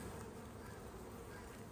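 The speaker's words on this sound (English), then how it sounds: "Look at all these bees." Honeybees swarm over a frame from a hive, with drones among them, giving a continuous soft, dense buzzing that stays steady and fairly faint throughout.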